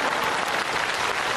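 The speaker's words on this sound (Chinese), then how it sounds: "就这还得鼓掌" Dense, continuous applause from a large theatre audience at a comedy sketch performance, loud and even throughout with no talking.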